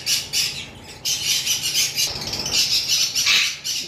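Female albino lovebird letting out harsh, rapid squawks in repeated short bursts, close and loud with brief gaps between calls.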